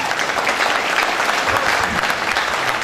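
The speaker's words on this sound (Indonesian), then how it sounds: "Tepuk tangan untuk Kang Sofi." Audience applause for Kang Sofi at an MEA seminar in Jakarta, dense and steady clapping from a crowd that holds evenly from start to finish.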